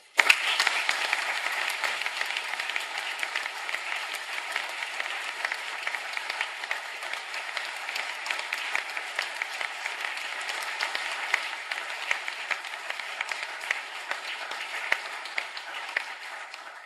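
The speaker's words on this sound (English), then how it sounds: "I think the applause speaks for itself." Sustained audience applause fills a press conference hall after a scientific presentation, dense steady clapping from many hands continuing evenly with no talk over it.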